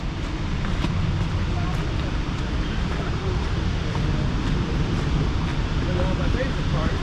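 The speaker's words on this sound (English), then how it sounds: "Oh, that sounds like thunder now." South Falls waterfall at Silver Falls State Park roars from behind the falling water, a steady, dense broadband rush that fills the whole clip without pause, close and loud.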